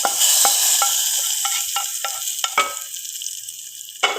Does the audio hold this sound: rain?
no